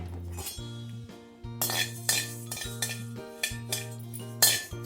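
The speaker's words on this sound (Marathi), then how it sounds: "हे बघा धने भाजून घेते अगदी वाटी धने आहे" Coriander seeds being dry roasted in a pan for chakli bhajani, with a utensil scraping and clinking against the metal in repeated strokes beneath a steady low hum.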